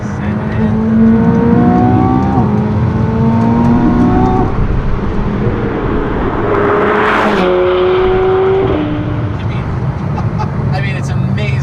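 A McLaren 720S accelerates hard through its gears, the engine note rising in several loud, close climbing sweeps with quick shift breaks, a rush of wind and road noise behind, and a voice talking over it.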